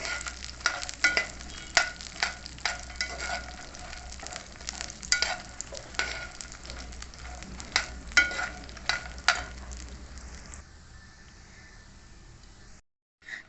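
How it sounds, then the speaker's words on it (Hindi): Whole fox nuts (makhana) frying in desi ghee over a medium flame, a quiet, continuous sizzle with repeated crackling pops, fading to near silence at the end, with no speech. "हमारा देसी घी गरम हो गया है, अब इसके अंदर ये फुल मखाने डाल के इनको अच्छे तरीके से फ्राई कर लेते हैं।"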